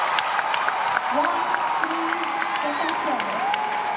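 A volleyball crowd at the MVP Cup applauds and cheers, a busy rumble of clapping with whoops and whistles rising and falling while a commentator talks over it.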